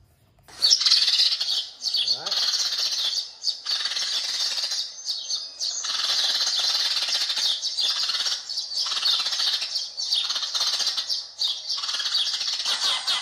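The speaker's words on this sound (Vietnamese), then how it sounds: "hai tiếng chim sẻ" Sparrow calls from a bird-trap loudspeaker, a dense stream of high chirps and twitters repeating in short bursts with brief gaps, loud and alone.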